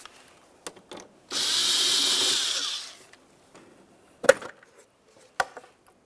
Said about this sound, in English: We only need to loosen this enough that we can pull the box off of here.